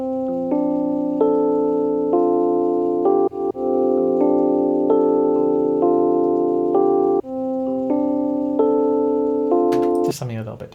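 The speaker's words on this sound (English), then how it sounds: "The Rhodes starts to come in." A Rhodes electric piano enters a house piano track with steady sustained chords, loud and close, ending in a brief noisy burst.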